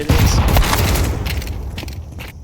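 A grenade blast in a Counter-Strike match: one loud, close boom that fills the first moment, then a long rumbling decay with scattered clatter as it fades.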